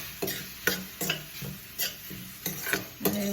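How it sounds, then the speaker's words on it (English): A utensil scrapes and stirs chopped onions and tomatoes in a pan, producing about eight short, rhythmic scraping strokes close up over a soft sizzle. "I will stir it for a bit."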